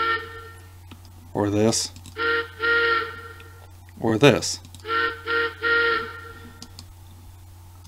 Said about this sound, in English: So when you blow the whistle on the engine,